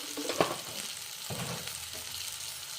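Masala rice spices with garam masala and salt being stirred in a hot pan, a soft sizzle with scraping spoon strokes, steady and fairly quiet.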